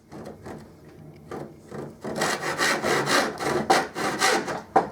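A wooden plane wedge being trimmed with a hand saw: a few quiet, tentative strokes, then a steady run of loud, close rhythmic sawing through the wood.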